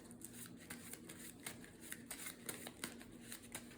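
A deck of game cards being shuffled close by at a tabletop card game, with quick riffling bursts and soft taps repeating for a few seconds, quiet and without talk.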